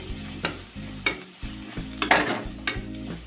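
Kashmiri red chilli is stirred and fried in a pan for a raw papaya curry, with a spoon scraping in quick strokes over a steady close sizzle.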